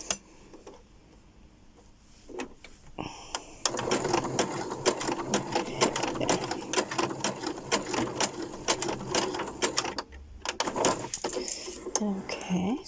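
A sewing machine stitches a lace ruffle, its dense, rapid mechanical whir running steadily for several seconds after a quieter start, then briefly stopping and resuming, with a voice talking faintly in the background.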